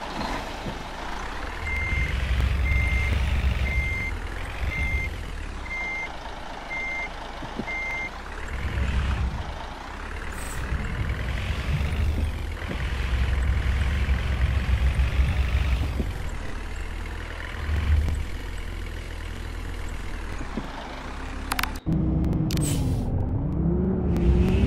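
Bus in an Android bus driving simulator game, set on a route from Santa Ana to Oakland: a steady engine drone runs throughout, with a repeating reversing beep pattern early on and a hiss of air brakes near the end.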